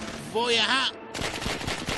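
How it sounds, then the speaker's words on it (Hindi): Gunfire rattles in the animated film Killer Bean Forever, a quick burst of shots following someone speaking Hindi. "सब पर गोली चला रहा है"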